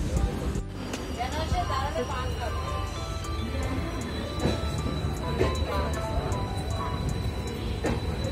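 A passenger train leaving Sasaram Junction gives a steady rumble with wheel clatter and occasional rail clicks, and people chat throughout the ride.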